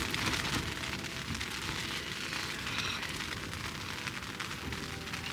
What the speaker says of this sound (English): Just terrified that the rain is gonna move the tent away.